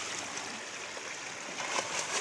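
River water flows steadily where boys are bathing, a soft, continuous rushing with a few slightly stronger splashy surges near the end.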